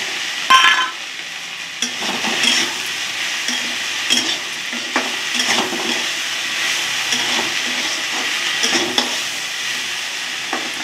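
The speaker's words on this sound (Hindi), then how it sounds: "इसमें सूखा मसाला है, धनिया, जीरा और मिर्च और हल्दी, इसको इसमें डाल दे रहे हैं।" Dry spices (coriander, cumin, chili, turmeric) stirred into okra and onion frying in a pan: a steady close sizzle and hiss with repeated scraping strokes of a spoon, no talking.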